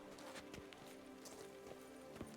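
Horse hooves clip-clop in The Witcher 3, a steady run of soft hoof strikes over a busy game background at moderate level, with no talk.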